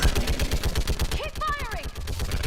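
Rapid, rhythmic automatic gunfire from the video game Mass Effect Legendary Edition rattles on without pause, loud and close, with a brief shouted voice cutting through partway.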